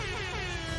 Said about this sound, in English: When I press the right trigger, aka control on keyboard, I do an air, I plays an air horn sound